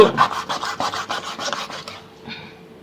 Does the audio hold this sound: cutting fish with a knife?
yes